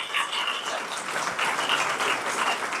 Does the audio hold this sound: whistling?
no